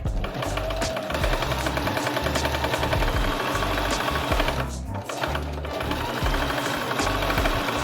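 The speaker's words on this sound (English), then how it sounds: "To attach the boning, I stitch it to the seam allowance before I top stitch." A sewing machine stitches boning onto the seam allowance of a circle dress, running steadily and continuously with a dense, rapid mechanical whir and a slight dip near the middle.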